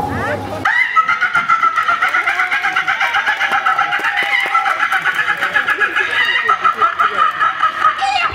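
A comedian on stage mimics a hen cackling after laying an egg, a loud, rapid run of rhythmic clucks that starts after a short vocal lead-in and carries on almost without pause.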